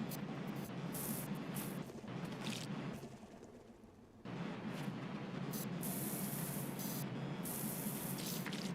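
A pressure washer sprays continuously in PowerWash Simulator 2, a dense steady hiss that dips briefly to a softer wash for about a second and then surges back loud, close and unbroken, with no speech.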